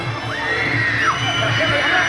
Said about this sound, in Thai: เสียงกรี๊ดนี่แน่นฮอเลยครับ